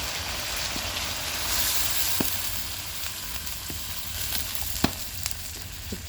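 Chicken curry sautés in a pan, giving a dense, steady sizzle and crackle close up, broken by a few sharp clicks of a spoon against the pan, moderately quiet, no talking.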